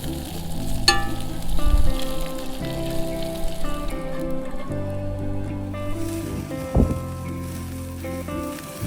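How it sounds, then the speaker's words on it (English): Bacon fries outdoors for burgers at a desert campsite by a tiny cargo trailer camper, a soft crackling sizzle under clinks and knocks of cookware, with one sharper clatter near the end. "We're cooking our bacon for our burgers outside."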